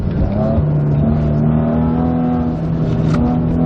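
A Maserati Ghibli accelerates through a corner on a test drive in Italy, giving a loud, steady engine drone with a rising pitch that carries on through the turn.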